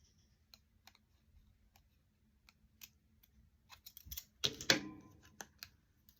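Scissors snip through a paint swatch color card, a few light ticks and clicks first, then a short cluster of louder close cuts toward the end in a quiet room.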